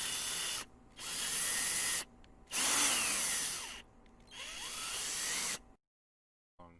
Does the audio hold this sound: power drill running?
yes